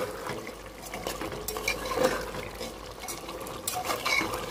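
Meat braising in a pan is stirred with a utensil, giving continuous scraping and clinking with a soft liquid bubbling underneath, moderately close and without talk.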